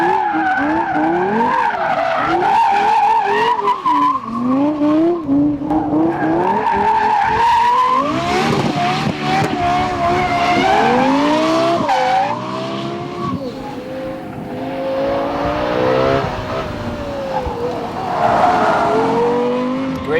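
Lexus LFA sports car driven hard with sustained, loud tire squeal and skidding over a high-revving engine, rising and falling pitch sweeps running continuously for about twenty seconds.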